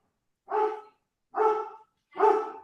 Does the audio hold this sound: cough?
no